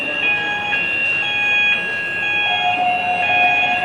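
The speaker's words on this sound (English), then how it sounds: "The fire alarm has been activated." A shopping-centre fire alarm at Westgate, West Quay in Southampton sounds continuously, a steady electronic tone with layered pitches that shift slightly partway through, filling the space at a moderate, even level with no speech.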